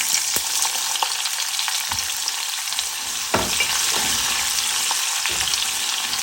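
Sliced garlic hits hot oil for a masala karela and fries with a loud, steady crackling sizzle, broken by a few sharp pops and stirring scrapes. No voices are heard.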